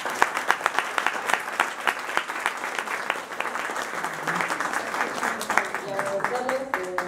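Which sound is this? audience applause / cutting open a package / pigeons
audience applause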